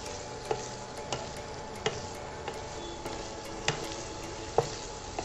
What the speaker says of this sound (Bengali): তো ফার্স্টে আলু পটলগুলোকে ভেজে নিচ্ছি।